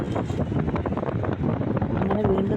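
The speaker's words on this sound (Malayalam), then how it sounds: "അങ്ങനെ വീണ്ടും നമ്മൾ വണ്ടി ഒതുക്കുകയാണ് കാരണം അതിഭയങ്കര കാറ്റ്." Very strong wind on a hill road near Vagamon in Kerala, heard as loud gusting buffets battering the microphone in uneven surges throughout, with a voice faintly under it.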